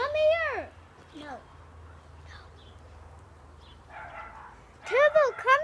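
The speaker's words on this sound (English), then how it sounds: "Shut up, dog." A dog barks and yips in short bursts at the start and again near the end, loud and close, with people calling and talking in between.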